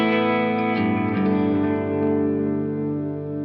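Electric guitar run through a Beetronics BeeBeeDee delay pedal in classic mode, with sustained chords trailing into lush, modulated repeats and a warm wash of echo that slowly fades, loud and alone.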